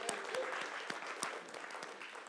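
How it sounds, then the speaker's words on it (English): Brief applause from a talk audience for a participant named Sasha, a moderate, even patter of many hands with a few crisp individual claps standing out. "Let's give Sasha a round of applause."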